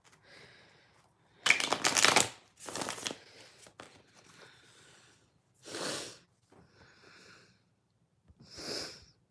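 A deck of tarot cards is shuffled in several separate bursts of riffling and flicking, close and crisp, with quiet gaps in between during a live card reading.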